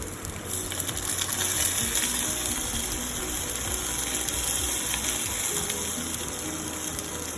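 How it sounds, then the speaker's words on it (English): Water poured into a hot pan of sautéed chilies while making instant dhokla, a steady close gushing splash that runs evenly throughout with no talking. "Now I will add the water into it."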